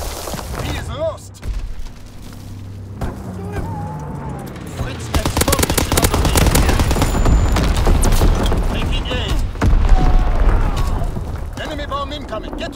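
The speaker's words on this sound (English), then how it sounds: "Incoming enemy artillery, get to cover!" Enemy artillery and gunfire in Call of Duty: WWII build into dense, continuous booming and rattling bursts, with game voices calling out over the din.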